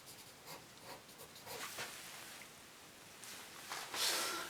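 Soft, close scratching of a pencil on paper while sketching a small cube, short strokes growing firmer toward the end, quiet with no speech.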